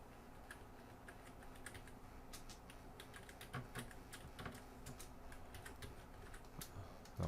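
Fingers tapping out a number on a computer keyboard, a quick irregular patter of light clicks, close and clear against a quiet room, with no talking.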